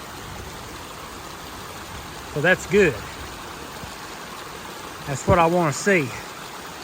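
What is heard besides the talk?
storm runoff water flowing down a ditch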